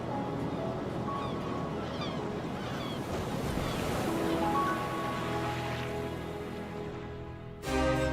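Sea waves washing along the British coastline, a steady broadband surf roar sustained throughout, with a brief louder swell near the end.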